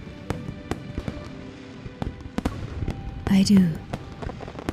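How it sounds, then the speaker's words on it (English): Video game fireworks burst in a series of sharp cracks and pops, one larger crackling burst standing out, with a short spoken line and background music. "I want to see fireworks in Hongning City, ones that are grander than these."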